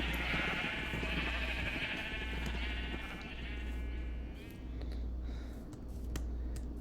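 Blocky Minecraft sheep bleat repeatedly in the game, a steady run of wavering baa calls heard over a constant low hum, fairly close and clear with no talking.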